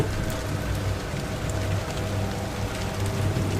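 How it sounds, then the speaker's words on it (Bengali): Heavy rain pours steadily at a night bus stand near a railway station, a dense continuous hiss of drops with a low rumbling undertone, no voices. "দেখতে দেখতে সে বৃষ্টি আরও চেপে আসলো"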